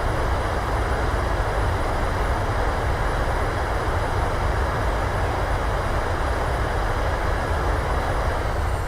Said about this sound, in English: Reversers, nose down gently.